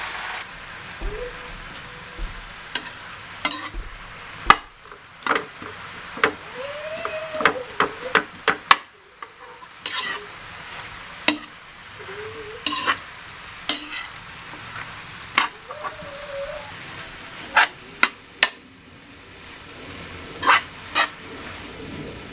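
Sea clams are stir-fried in a pan: a spatula clatters and scrapes in repeated irregular strokes over a soft background sizzle, with brief pauses between bursts.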